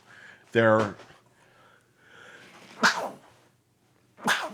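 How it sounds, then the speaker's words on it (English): A loud, sharp sneeze bursts out nearby, followed by two quick breathy snorts or gasps after quiet pauses. "I'm gonna sneeze one more time."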